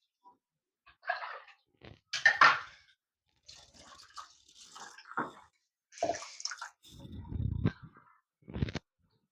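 Water poured and stirred into a thin, milky batter, with splashy pours and wet mixing sounds in several short bursts, close and fairly quiet with silence between.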